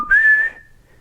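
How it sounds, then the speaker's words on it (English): A single brief whistled note from the score of Crank, rising slightly then holding steady before fading out, clear and close with no other sound. "there's a point in the movie where Chev Chelios himself is whistling it"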